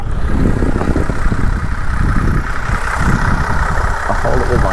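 A Holden VZ Commodore Police Pack sits idling with a rough, steady, diesel-like clatter and a low rumble that stays constant and close throughout.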